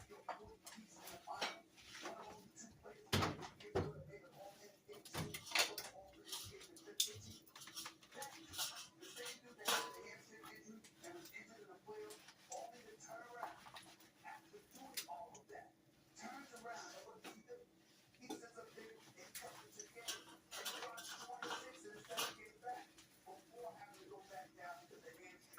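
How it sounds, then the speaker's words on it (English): Utensils scrape and clink against a pan of greasy breakfast food in irregular bursts, with soft sizzling and kitchen clatter while someone talks over it. "I'm going to stir things around and take out all the grease"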